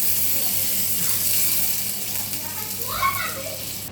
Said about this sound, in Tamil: இப்போ லவங்கப்பட்டை அதுவும் போட்டு இதில் பட்டரில் போட்டு வதக்கலாம்.